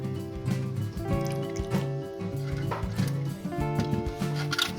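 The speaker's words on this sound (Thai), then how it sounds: "ใส่น้ำผลไม้ดองเมชินหนึ่งถ้วยค่ะ" Korean maesil fruit extract poured into kimchi seasoning, close liquid pouring and dripping with soft squishy splashes over a faint background hum.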